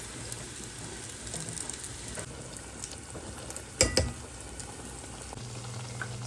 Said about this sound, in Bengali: বেগুনি হয়েছে গিয়ে ডুবে তেলে ভাজতেছি।